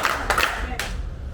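An audience at a live stage show claps together in a couple of quick, sharp bursts, close and loud, with a faint murmur of voices around them.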